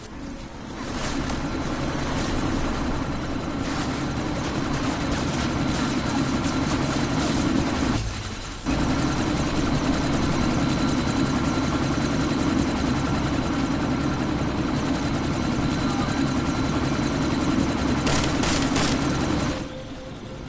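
A helicopter in the video game Deus Ex: Mankind Divided, about to take off, gives a loud, steady, close engine and rotor drone that cuts out briefly partway through, then resumes until the end.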